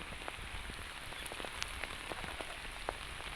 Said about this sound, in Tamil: எங்கள் ஊரில் பேஞ்ச மழை பாருங்கள்